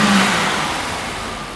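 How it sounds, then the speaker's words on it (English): A Mercedes-Benz six-cylinder carburetted engine idling, a steady, loud, close rumbling drone with a broad whooshing texture and no breaks. "With a few turns of the screwdriver, the 6 cylinders idle is brought down slightly and the carbs balanced."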